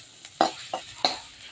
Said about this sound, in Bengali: এবার কড়াই থেকে আমি নামিয়ে নিই।